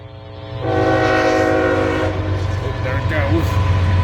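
A southbound CSX manifest freight carrying autoracks rolls past a grade crossing in Kingston, New York, its loud horn blasting continuously over the deep rumble of the locomotive and cars, close and steady throughout.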